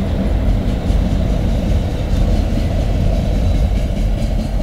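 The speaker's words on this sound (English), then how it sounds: "There's the end of that train." CN freight train A425 with AM gondolas rolling steadily past at MP 77 on the Dundas Subdivision in London, Ontario, a loud continuous rumble and rattle of wheels without talk.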